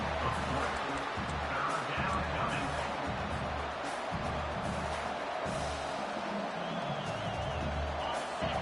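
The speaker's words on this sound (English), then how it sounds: "Decibels rising as the crowd gets behind this defense on 3rd down." Football stadium crowd at a Michigan vs Georgia game on a third down, a steady broad roar of cheering and noise that holds loud and unbroken throughout.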